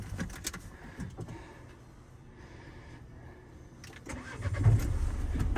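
A 1.5-litre K9K diesel engine in a Renault Kangoo cranks and starts up near the microphone, then settles into a steady, rumbling idle.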